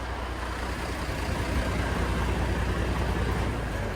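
A combine harvester engine runs with a loud, constant, broadband roar that stays steady and close throughout, with no voices.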